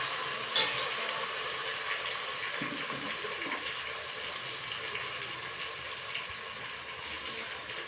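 Tomatoes fry in a pan for Coimbatore-style paruppu sadham, giving a steady, even sizzle that holds without break over the whole stretch.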